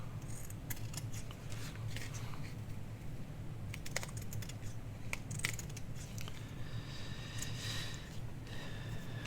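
Scissors trimming the edges of fabric-covered tags, a series of quiet close snips and crisp cuts over a low steady hum.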